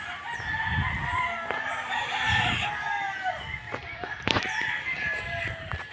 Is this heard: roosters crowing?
yes